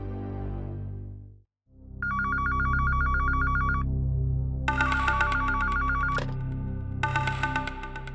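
A telephone rings in repeated electronic bursts, loud and close, over a low steady hum after a brief drop to silence.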